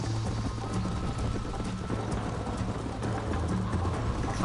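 A horse gallops during a race in the video game Red Dead Redemption, with steady, rapid hoofbeats drumming continuously and fairly close over a low background rumble.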